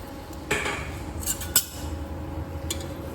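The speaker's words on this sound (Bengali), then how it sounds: "দিয়ে সামান্য একটু নাড়াচাড়া করবো, খুব বেশি নাড়াচাড়া করার দরকার পড়বে না।" Two medium onions, chopped, are moved around a pan with a few brief scrapes and light metallic clinks of a spoon on cookware over a faint steady background.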